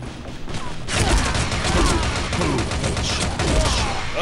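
Rapid gunfire from the shooter game Frontline Commando: Rivals, with dense bursts of shots rattling continuously after a brief quieter lead-in. The firing is loud and sustained, with faint voices mixed underneath.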